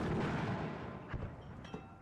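Mortar fire in the video game WARNO: a dense, rumbling barrage of low booms that fades slightly, with a couple of distinct thuds toward the end.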